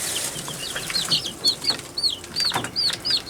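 A sickly chick in an incubator gives a series of thin, high peeps close by, repeated every half second or so, with some soft rustling and no talking.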